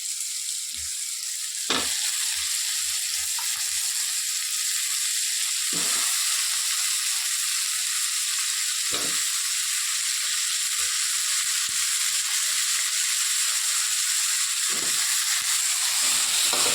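Cut raw banana pieces hit hot oil in a pan for banana curry, giving a loud steady sizzle and hiss throughout, broken by a few soft knocks and stirring bumps, with no talking.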